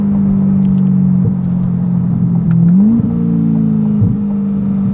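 A 2021 Corvette Stingray C8 with paddle shifters downshifts while driving. A loud, steady engine drone heard from inside the car shifts pitch upward partway through as the gear drops, then settles into a new hum.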